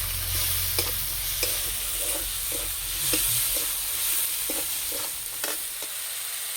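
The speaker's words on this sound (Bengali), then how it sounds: "মশলা ভালো করে কষিয়ে নেব।" Ground cumin, chilli, turmeric and garam masala with a little sugar sautéing in a pan, a constant loud hiss of frying under regular scraping strokes of a spatula, with no one speaking.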